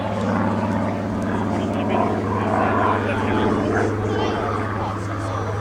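A WWII fighter's piston engine, Spitfire or P-51 Mustang, at the Midlands Air Festival: a steady, loud droning hum with a deep tone, sustained throughout, with crowd noise and talk faintly mixed in.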